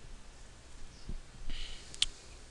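A computer mouse clicking on a PC during software setup, a few faint sharp clicks spread over a couple of seconds in a quiet room.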